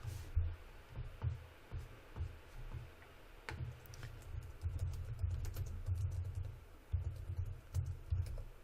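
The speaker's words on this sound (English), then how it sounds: "I'm going to type map." Fingers typing on a computer keyboard, with quiet, steady bursts of close key clicks and short pauses between them, heard alone.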